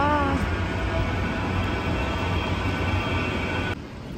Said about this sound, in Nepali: यहाँ पनि रहेछ ट्राम पनि रहेछ